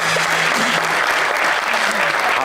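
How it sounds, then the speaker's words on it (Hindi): A studio audience at a television comedy talk show claps loudly and steadily throughout, with a faint voice underneath. "तालियां।"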